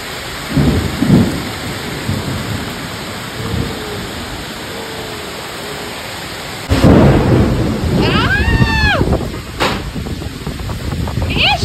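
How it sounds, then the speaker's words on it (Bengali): Heavy rain pours down in a constant loud hiss while thunder rumbles and cracks. A bigger thunder burst hits partway through, with a brief voice-like tone over the storm. "দেখো, আমি একটু ওয়েদারটা দেখাই, বৃষ্টি পড়ছে দেখো"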